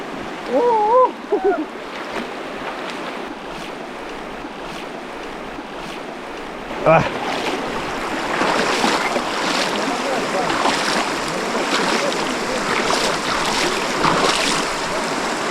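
River water rushing over rocks during a crossing on foot in the Gorgany mountains, a steady broadband flow that grows louder and fuller midway, with splashes and brief voices early on.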